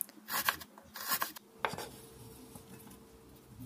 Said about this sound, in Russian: Режем красный репчатый лук полукольцами.